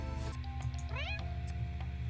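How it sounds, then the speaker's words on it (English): Cartoonish cat meows from the video game Purrfect Date, a couple of bright, rising mewing calls over steady background game music, close and clear. "I still love the freaking meow sound."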